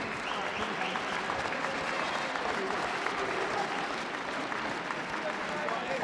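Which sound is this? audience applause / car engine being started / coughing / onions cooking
audience applause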